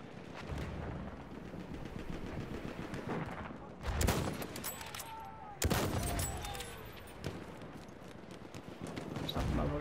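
Machine gun fire in the video game Battlefield, a steady rattling stream of rapid shots with sharp louder bangs standing out, continuous throughout over battlefield noise.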